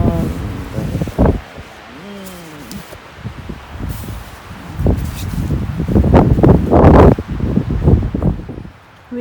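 Wind gusts buffet a tent during a windy meal outdoors, giving a broad, rustling roar that swells louder toward the end, with muffled voices talking inside.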